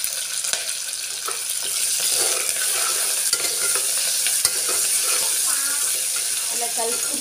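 Curry leaves and onions fry in a pan, stirred with a steady scraping and a constant sizzle, closely miked with no voices over it.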